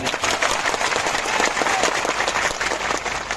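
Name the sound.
crowd applause for Gopal Italia at a meeting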